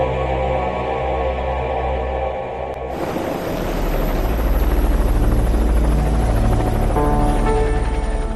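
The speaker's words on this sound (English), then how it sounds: "Search and rescue helicopters are immediately dispatched from Coast Guard stations" A Coast Guard search and rescue helicopter's rotor thumps loud and steady, its turbine whine continuous as the heavy beat swells and holds close throughout.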